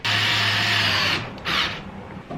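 A power drill drives screws into an old lath and plaster ceiling in a 100-year-old home, one loud sustained whir about a second long, then a shorter second burst after a brief pause.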